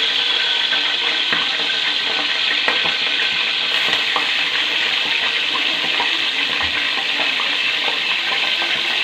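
Cumin seeds frying in hot ghee with 1.5 tablespoons added, giving a steady, dense sizzle and crackle close by that holds throughout without pause, and nobody talks over it.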